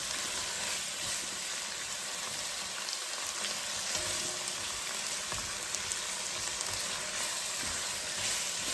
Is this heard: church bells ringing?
no